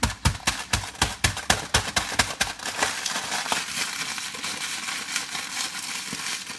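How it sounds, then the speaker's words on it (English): A sleeve of Ritz crackers is crushed by hand, giving a rapid series of loud crinkling, crunching bursts that then settle into softer, continuous crackling and rustling, close and with no talking. "I use a sleeve of Ritz crackers, and I'm going to crush them up."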